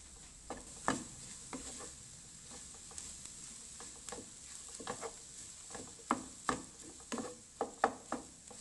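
Egg filling being stirred in a pan on a switched-off stove, with irregular light scraping and tapping clicks scattered over a faint sizzling background.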